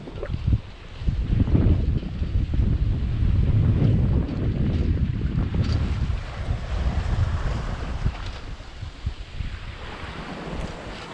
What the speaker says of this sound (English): the wind is probably 15 to 20 knots. But there are gusts in there which are shooting it much higher